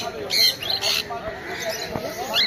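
A parrot, likely a black-capped conure, at a pet market gives a few sharp, close squawks and chirps over busy background chatter and noise.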